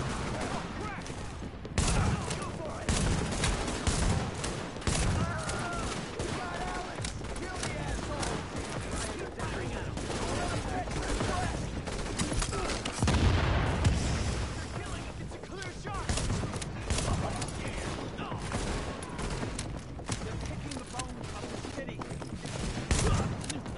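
Dense, continuous gunfire from a PS4 shooter game: bursts and rapid shots rattle almost nonstop at steady loudness, with a voice talking over the shooting.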